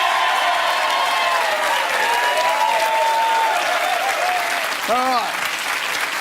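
A television game show studio audience applauds loudly and steadily throughout, a dense wash of clapping with a male host's voice speaking over it near the end.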